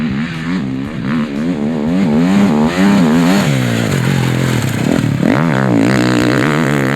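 A 2021 Husqvarna FC450 Rockstar Edition 450cc motocross bike engine revs and pulls loudly and steadily for the whole stretch, rising and falling in pitch through repeated throttle bursts and gear changes, with no talking.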